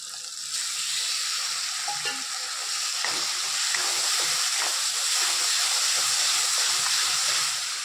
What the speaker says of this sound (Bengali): মশলাটা ভালো করে একটু কষিয়ে নেব